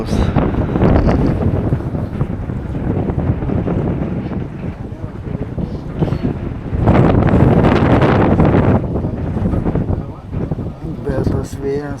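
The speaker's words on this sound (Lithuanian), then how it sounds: "Bet tas vėjas tai jau atsibodo." A strong headwind roars and buffets the microphone of a cyclist riding against the wind beside the Nemunas river toward Kulautuva. The rumble is loud and continuous, swelling harder midway, with a voice speaking under it.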